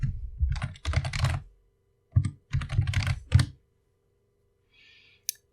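Fingers type on a computer keyboard up close, with quick clusters of clicking keystrokes in two bursts separated by a pause, followed by a faint tail and one final tap.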